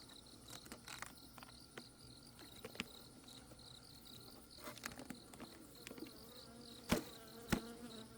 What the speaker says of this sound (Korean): 벌이 늘어나고 있으니까